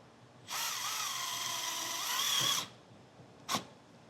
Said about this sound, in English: I just want a small drill bit and drill as close to the center as possible